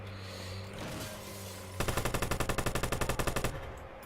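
Rapid automatic gunfire in the video game Watch Dogs during an online shootout, a loud burst of evenly spaced shots lasting about two seconds after a steady hum of game ambience.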